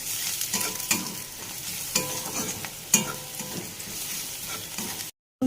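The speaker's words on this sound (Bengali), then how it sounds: "রসুন বাটা, শুকনো লঙ্কা, দিয়ে ভালো করে ভাজবো।" Garlic paste and dried red chilli sizzle loudly in a pan while a spatula scrapes and stirs, giving recurring scraping knocks about once a second before the sound cuts off abruptly.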